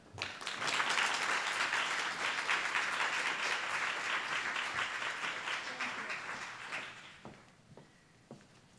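Applause from an audience at the Music Canada 2016 AGM welcoming a minister to the stage, a dense sustained clapping that fills the room for about seven seconds, then thins into a few scattered claps as it dies away.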